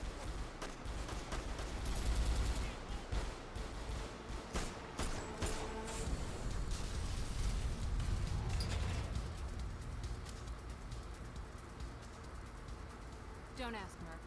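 Gunfire in the video game Mirror's Edge: scattered sharp shots crack through a busy, noisy game soundscape, some spaced apart and some clustered, with game voices talking in between.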